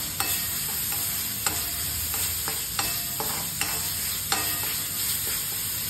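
Asafoetida and turmeric roast in hot oil in a pan with other spices, giving a steady close sizzle broken by sharp clicks and scrapes of a spoon stirring.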